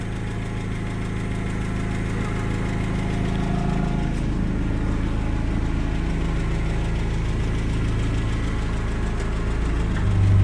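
A Cummins diesel engine runs close and loud with a steady, rumbling idle, its pitch lifting slightly as it is revved partway through.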